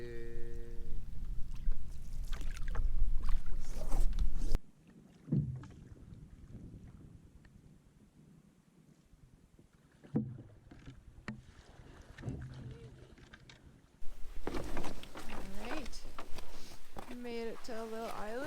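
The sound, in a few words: paddling a canoe against headwind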